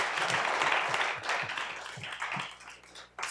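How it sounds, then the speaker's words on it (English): Applause from a colloquium audience honouring Ambassador Andrew Young, greeting the US delegates; scattered, fairly light clapping over a steady room hum, uneven and thinning out toward the end. "I think a round of applause for them as well"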